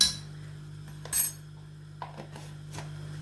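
Metal spoon clinking against a pot or container a few times while salt is spooned into a pot of chana dal, short scattered clinks over a steady low hum.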